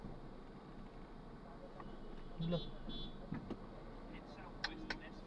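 Street traffic on Taft Avenue in Manila, heard as a faint, steady rumble of vehicles in the distance with occasional small clicks and passing engine noises over it.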